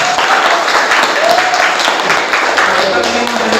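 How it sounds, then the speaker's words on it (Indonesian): Classroom audience applauding a teacher coaching session, a steady dense clatter of many hands that holds at even loudness for a few seconds with no talk over it. "yang lain tepuk tangan dulu"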